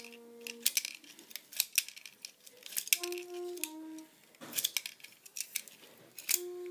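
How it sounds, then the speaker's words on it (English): Small plastic clicks and snaps from a Transformers Cyberverse Warrior Class Megatron toy's spring-loaded trigger action feature, a quick irregular series of close, sharp mechanical clacks with brief rattles in a quiet room. "His action feature gimmick is trigger. You pull it and he has a little spring load of this one."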